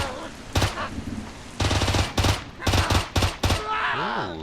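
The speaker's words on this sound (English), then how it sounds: "I'm just firing on the ground." Automatic gunfire in the video game Pigface, several sharp bursts loud and close, spaced across the span with brief gaps, followed by a warbling tonal effect at the end.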